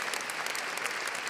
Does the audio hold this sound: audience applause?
yes